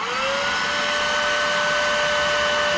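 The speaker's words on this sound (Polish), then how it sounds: "Także to jest odkurzacz," Household vacuum cleaner in everyday use runs steadily at close range, a continuous whine with a strong steady tone over broadband airflow noise, without interruption and with no voices.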